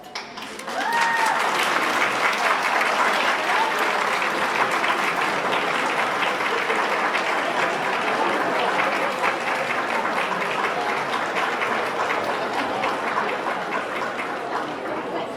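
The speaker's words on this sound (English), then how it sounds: "give them one big applause" A large audience at a nursing pinning ceremony applauds in a long, sustained ovation, dense and even clapping filling the hall for about fifteen seconds with faint crowd murmur underneath.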